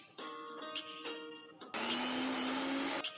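A mixer grinder grinds roasted urad dal and chana dal into idli chilli powder, with a loud continuous whirring motor burst that runs about a second and a half after an earlier stretch of grinding.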